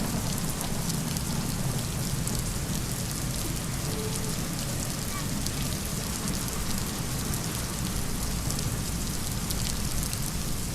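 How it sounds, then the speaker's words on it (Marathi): Heavy unseasonal rain falls steadily in a thunderstorm, a dense continuous hiss of rain on surfaces at constant loudness, with low rumbling thunder blended into the wash and no voices. "जिल्ह्यांमध्ये विजांच्या कडकडाटासह जोरदार अवकाळी पावसाने हजेरी लावली आहे"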